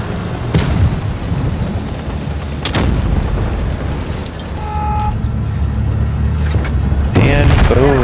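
A tank in a video game fires a premium shell, making heavy booming blasts with sharp cracks, several in the clip, over a constant rumbling battle din and engine noise.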